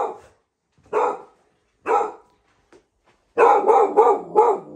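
Dogs bark at night in several sharp, close bursts: two single barks spaced apart, then a rapid flurry of four or five barks at the end.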